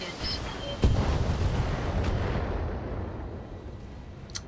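Mech weapons fire at targets in the video game BattleTech: a sharp loud blast opens a heavy rumbling barrage of booming shots and explosions that slowly fades, with a small pop near the end.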